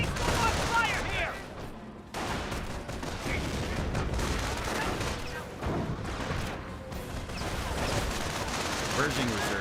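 A World War II battle in the Company of Heroes game, with dense bursts of rifle and machine-gun fire crackling almost without a break, thumps of heavier blasts between them, and game voices mixed in underneath.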